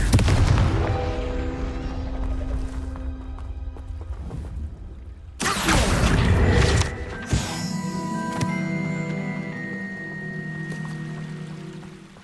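Confringo fire spell explosions in the Hogwarts Legacy video game: a loud burst after a quieter tonal stretch, then a second blast with ringing, sustained tones trailing off.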